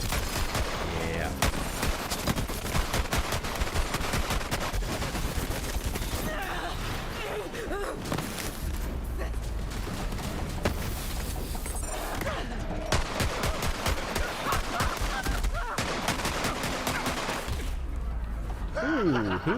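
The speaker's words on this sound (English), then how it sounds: "Big guy right behind me shooting me at close range" Video game gunfire in Borderlands 3, an enemy shooting the player at close range: dense, continuous volleys of rapid shots with crashing impacts, loud and near throughout, with someone talking over it.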